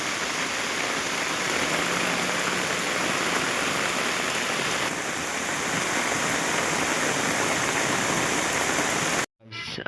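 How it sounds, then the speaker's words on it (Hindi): Heavy rain pours onto a village road as runoff rushes along it like a river, a loud, steady broadband roar of water with no voices, cutting off abruptly at the end. "इसके बाद देखो पूरा नदी बन गया रास्ता।"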